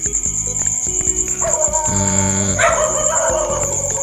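A video game dog barks in short repeated bursts over a loud, steady high-pitched chirring of crickets, with sharp game-like sounds in between.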